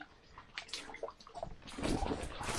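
Water rushes steadily in a mountain stream, a close, continuous splashing flow that grows louder and fuller toward the end.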